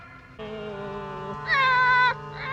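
Cat from a Star Trek original series episode meows in a long, drawn-out call that rises in pitch midway, then a shorter meow follows, clear and fairly close over a quiet background.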